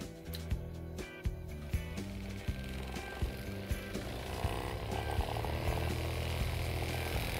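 A prototype sander built around a microwave fan motor runs on 220 V mains power, a steady whirring hum that spins up, with regular clicking knocks through the first half.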